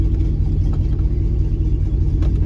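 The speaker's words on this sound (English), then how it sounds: "She's idling." A turbocharged 5.3L Chevrolet Tahoe V8 idles up close, giving a steady, loud low rumble that holds even throughout without revving.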